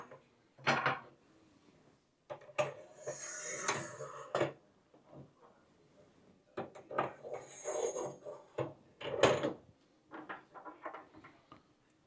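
Metal hanging brackets are placed onto a deck bird feeder pole, producing a series of close, faint clinks, scrapes and knocks in irregular bursts, separated by short quiet gaps.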